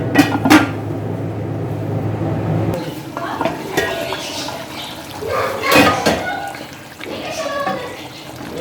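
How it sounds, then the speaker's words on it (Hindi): Spoon stirring spice paste into chicken pieces in a cooking pot, with scraping, clinking strokes against the metal and a brief low hum early on, close and moderately loud. "अच्छी तरह चमचा ला के मिक्स करके फिर हम इसको गलने के लिए रख देते हैं"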